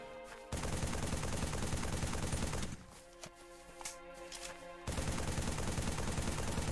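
Rapid automatic gunfire from Halo 3 striking a Mantis mech, loud and steady, with a short lull in the middle before the burst picks up again.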